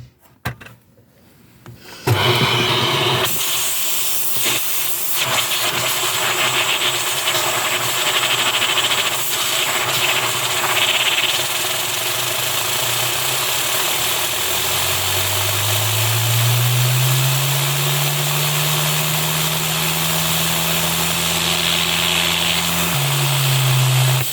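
A homemade LEGO turbine engine driven by a vacuum starts with a few clunks, then spins up into a loud, continuous broadband whoosh and whine, with a tone that climbs gradually in the second half.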